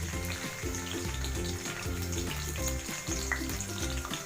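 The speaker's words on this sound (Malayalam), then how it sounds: "ഇതിലേക്ക് ഒരു 10-15 അല്ലി വെളുത്തുള്ളി ഇട്ട് കൊടുക്കാം." Ten to fifteen garlic cloves fry in hot coconut oil for a Kerala chicken curry, a steady close sizzle with some rhythmic clatter, heard alone.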